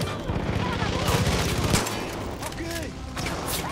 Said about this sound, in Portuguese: Caraca, tio, quem tá atirando assim, velho?